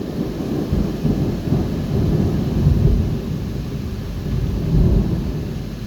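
Deep rolling thunder from a severe thunderstorm in Bordeaux, France rumbles steadily, swelling twice, over a constant wash of heavy rain; loud and close.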